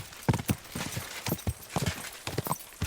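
Horse hooves clip-clop at a walking pace in the Kingdom Come Deliverance 2 video game, a series of distinct, fairly close thuds in an uneven rhythm, alone with no talk over them.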